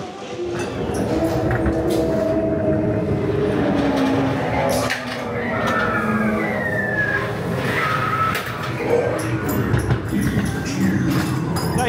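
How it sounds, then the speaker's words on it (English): Ghost Train dark ride cars at Blackpool Pleasure Beach rumble along the track with a loud, steady roar and scattered clatter, and faint voices mix into the noise. "The Ghost Train, final ride of 2024 on here."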